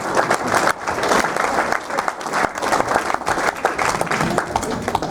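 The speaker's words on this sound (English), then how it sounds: "give my wife a round of applause" An audience applauds warmly, a dense patter of many hands clapping steadily throughout, loud and fairly close.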